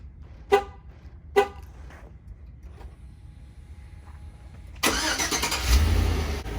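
A GM truck remote-starting after lock-button presses: two short horn chirps, a quiet pause, then the engine cranks and catches into a steady idle.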